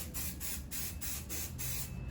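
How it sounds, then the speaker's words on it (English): An aerosol spray can hisses in a series of short, even bursts, about six in quick rhythm, as paint is sprayed onto miniature Warhammer 40k models, close and loud. "Then you just spray away. Do short bursts."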